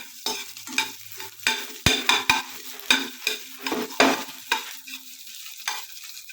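Gobi manchurian ingredients with green chillies, onion and coriander are stirred in a sizzling pan, with repeated scraping strokes and clatters of a spatula over a soft frying hiss, close by.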